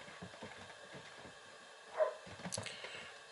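Big dogs bark somewhere overhead, heard as faint, muffled, irregular woofs through the ceiling in a quiet indoor room, with one slightly louder bark near the middle.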